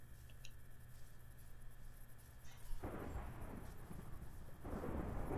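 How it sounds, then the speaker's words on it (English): Thunder from a lightning strike landing close by in the Minecraft video game, a sudden deep rumbling boom that swells around the three-second mark and again near the end over quiet game ambience. "that lightning bolt was right next to me"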